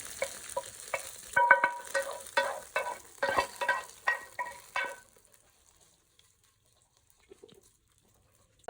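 Curry leaves and four or five dried red chillies hit hot oil for a Malappuram-style dish, giving a loud, crackling sizzle with rhythmic stirring scrapes that fade to near silence after about five seconds.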